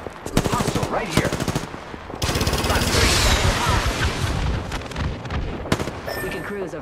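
Rapid automatic gunfire in a battle royale video game rattles in loud, dense bursts, with a sustained barrage in the middle and sharp single shots near the end.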